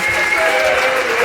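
Sustained applause from a standing audience at a live debate event, a thick steady wash of many hands clapping close and loud, with some crowd voices mixed in.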